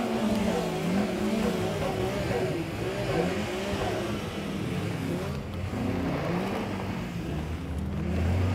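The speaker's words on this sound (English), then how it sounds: "So the Lord said, let there be engine noise." A car engine revs hard and steadily, its pitch rising and falling through the gears in a loud, continuous roar that stays close throughout.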